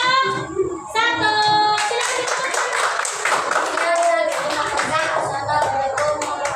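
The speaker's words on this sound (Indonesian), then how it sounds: "tepuk tangan dulu untuk kelompok" Children in a primary school classroom clap for a group, with rhythmic clapping and some kids' voices and chatter mixed in.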